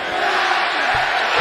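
Crowd at a Duke versus Clemson college basketball game roars in the arena, a loud sustained wall of cheering and shouting that swells toward the end.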